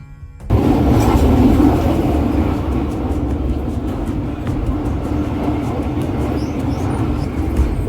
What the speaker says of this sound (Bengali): প্রয়াগরাজ জংশন ঢোকার আগে ট্রেনটি পার হয় এই ব্রিজটির ওপর দিয়ে যার নাম আদি নৈনী ব্রিজ